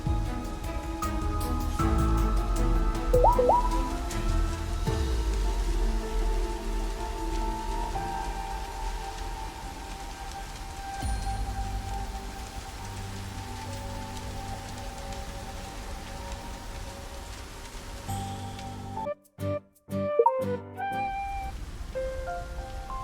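Dense rain in a video game patters steadily on surfaces, a broad continuous wash with a low rumble beneath, briefly broken by a few abrupt gaps near the end.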